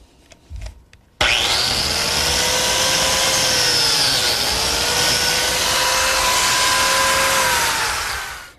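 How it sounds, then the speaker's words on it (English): A biscuit joiner with an auxiliary fence starts abruptly after a few faint knocks and runs as a loud, steady high whine, cutting slots into a pine miter joint before spinning down at the end. "To make the biscuit slot, I need this auxiliary fence on my biscuit joiner, and the miter just fits right into the corner."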